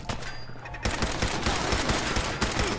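Rapid gunfire in Fallout 4 breaks out after a brief lull, a dense run of sharp, closely spaced shots crackling loudly and continuously for a few seconds with no talking.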